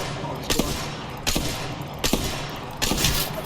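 Gunfire in the Apex Legends video game sounds as four sharp, evenly spaced bursts of shots that land close and loud over a constant background rumble.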